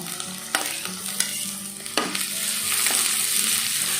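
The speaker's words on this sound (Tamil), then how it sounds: "அப்புறம் பார்த்திங்க அப்படின்னா கேரட்டு, அது வந்து வெங்காயம் வந்து நல்லா வதங்கட்டும்." Onions with chilli and carrot sauté in a pan, a steady sizzle with a few sharp spatula scrapes and clinks spaced apart, close and clear without any speech.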